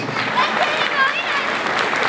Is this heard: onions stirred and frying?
no